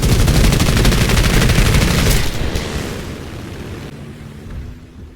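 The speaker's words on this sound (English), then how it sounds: "bombers do shoot back with their defensive guns, so I get hit a few times there" Defensive gunfire from a bomber in a WWII flight combat video game, a dense, loud burst of rapid shots that fades into a rumbling tail.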